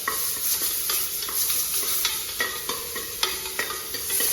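Onions, green chillies and garlic sautéing in a pan, with a steady sizzle broken by repeated scraping strokes of a spoon as the mixture is stirred up close.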